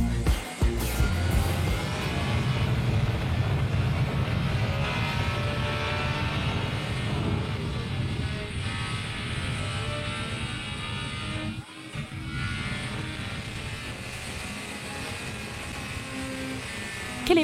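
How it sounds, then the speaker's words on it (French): A new BMW S1000RR sport motorcycle rides on the Interlagos race circuit, its engine a steady, loud roar with rushing wind that dips briefly near the end. "quelle émotion de piloter ici sur la piste d'Interlagos avec cette moto."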